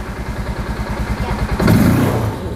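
A Kazuma 500cc 4x4 ATV engine chugs with a rapid, even pulsing beat, then swells into a louder, rougher rev as the throttle opens, close and steady through the short stretch.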